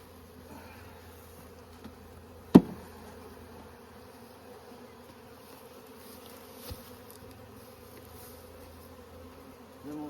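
Honeybees drone softly around a hive during a nuc replacement, a faint continuous buzz with a sharp knock and a smaller thump standing out against it, with no voices.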